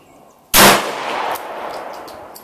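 A single loud, close pistol shot from a Glock 19 fired at a Hawaiian Punch can target outdoors, a sharp crack followed by a lingering echo that fades over two seconds.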